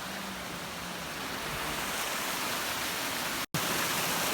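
Cold snowmelt water from the Himalaya rushes in a mountain stream on the Panchpokhari trek in Sindhupalchowk, giving a steady, dense roar with one brief dropout near the end.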